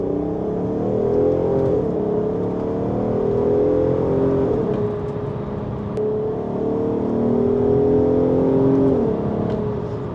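A VW Golf 5 R32 with an aftermarket exhaust revs and accelerates through gears, its engine note rising and falling in steady sweeps, loud and close inside the car with no talking.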